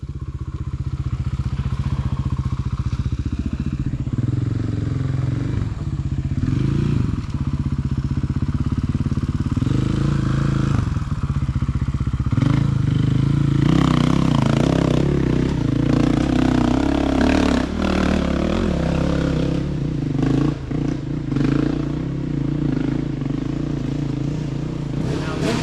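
Dirt bike engine on a steep hill climb, a steady loud low motor drone with rising revs, clatter and thumps across the slope, with people talking over it throughout.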